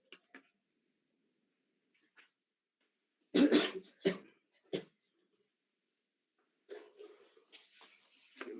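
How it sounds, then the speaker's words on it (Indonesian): A person coughs in a short, loud burst of several coughs, with a few scattered smaller throat sounds and breaths around it in an otherwise quiet room. "Batuk wae saya teh."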